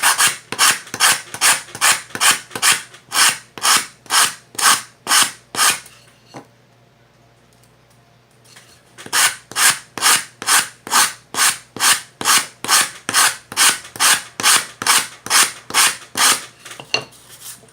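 Steady rhythmic rasping strokes of sanding wood while shaping a Native American flute, loud and close, with a brief pause in the middle before the even back-and-forth strokes resume.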